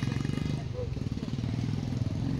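A scooter engine while riding, a steady close, rough motor drone throughout with continuous wind-like rumble and no clear break.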